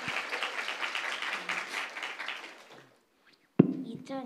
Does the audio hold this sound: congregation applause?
yes